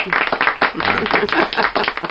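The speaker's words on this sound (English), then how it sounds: "why didn't the applause play for me? There we go." Short burst of recorded applause sound effect played in a small-town radio studio, clapping fairly close and loud over about two seconds.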